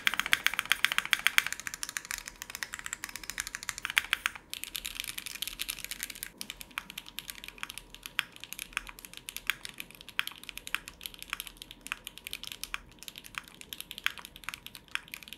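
Someone types steadily on a one-piece aluminium O-ring mount mechanical keyboard, making quick, fairly quiet clacks in an uneven rhythm with no talking.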